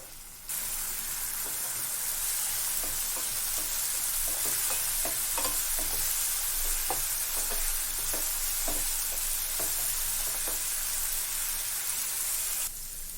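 Coriander leaves fry in a pan for tomato coriander rice, a steady dense sizzle running throughout with scattered soft scrapes and taps of stirring, fairly loud and with no talking.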